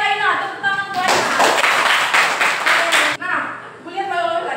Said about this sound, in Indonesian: tepuk tangan buat Aina.